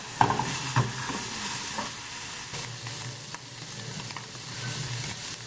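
Meat sizzling and frying in a hot pan at home while a burger snack is made, a steady crackling hiss with occasional stirring scrapes and pops, close and continuous with no talk.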